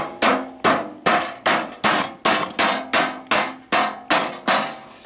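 Mallet pounding metal from an air conditioning unit flat against a screwdriver: about twelve loud, sharp strikes in a steady rhythm, each ringing briefly before the next, up close with no talking.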